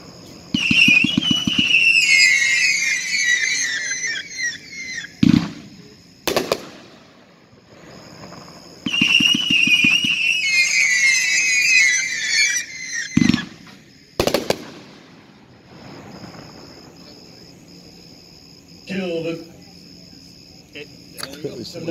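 Cutting Edge Kill the Noise fireworks cake, 31,500 grams, fires in several loud volleys of crackling shots with whistling tails, separated by sharp bangs and brief pauses.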